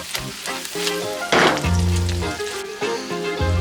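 Sand fleas and bacon sizzle and crackle steadily in a hot pan, a loud continuous fry with a brief surge of spattering midway, and no talk over it.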